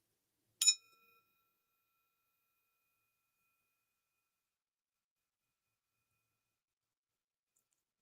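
A single bell strike opens a breathing exercise, one clear ringing tone that fades within a second into near silence.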